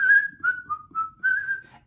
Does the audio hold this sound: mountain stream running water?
no